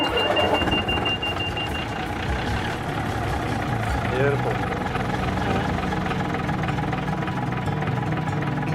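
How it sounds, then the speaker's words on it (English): An 80-year-old six-cylinder Gardner marine diesel, taken from a yacht and fitted in railmotor RM93, runs with a loud, steady, rumbling chug close by. Someone speaks briefly over it. "RM93 runs on a 6-cylinder Gardner Marine diesel engine out of a yacht"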